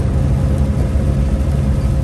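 Steady, close road rumble from a truck cab as the rig drives along, a broad low engine and tyre drone with no talking.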